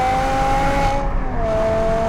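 A BMW M6's Formula 1-derived V10, revving to 8,200 rpm, roars steadily while accelerating, its pitch holding high with a brief dip in the middle, no voices over it.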